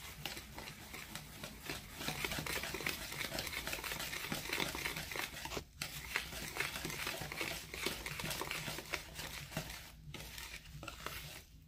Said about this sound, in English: We're going to whisk these very well